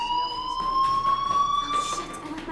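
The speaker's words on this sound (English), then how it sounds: "do you hear that fire alarm?" A fire alarm rings in the video game Life Is Strange, a steady high electronic tone with faint upper overtones that holds unbroken and fairly loud for a couple of seconds, with no voices over it.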